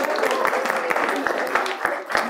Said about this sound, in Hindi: जोरदार तालियां हो जाए सबके लिए।